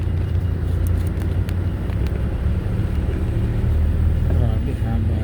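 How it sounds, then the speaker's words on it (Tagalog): Heavy road traffic outside New Era University, a steady low rumble of car and vehicle engines close by, with people talking over it throughout. "Traffic no."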